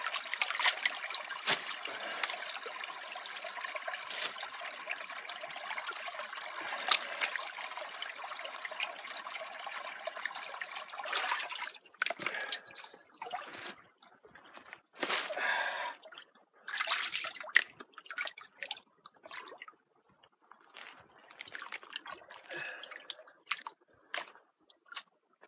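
Water from a concrete tank at a rural property trickles and drips as it drains out and refills, a steady wet splashing flow for the first half that breaks into irregular gurgles, squishes and drips.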